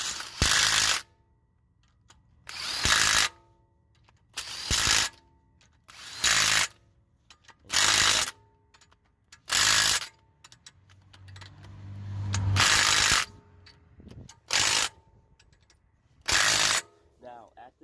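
A power tool drives lug bolts onto a Mercedes E63s wheel fitted with wheel spacers, whirring in about ten sharp, loud bursts at a steady rhythm, with short quiet gaps and a longer rumble midway.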